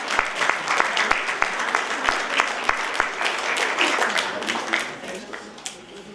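Sustained applause from a large audience at a university convocation ceremony in Uttarakhand, dense steady clapping with sharp individual claps standing out, easing off slightly toward the end.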